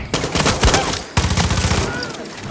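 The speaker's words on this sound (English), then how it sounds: "I'm just gonna shoot him down here" A close, rapid burst of gunshots in Far Cry 6, sharp cracks in quick succession, a brief pause, then another rattling volley that fades.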